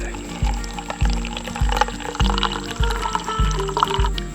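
Water pours steadily into a pot for cowboy coffee at a bushcraft camp with a gasifier stove, a continuous liquid fill with rhythmic low knocks running throughout, fairly close and alone.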